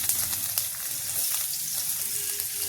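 Carrots for fried rice sizzle in a pan of hot oil, a short, steady crackling hiss heard close up with faint stirring ticks and no speech.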